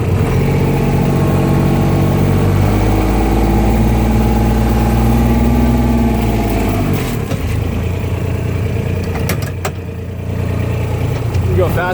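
A four-wheel-drive vehicle crawling over rough forest terrain, its engine droning loud and steady at a low, even pace, with creaks and knocks from the uneven ground near the end.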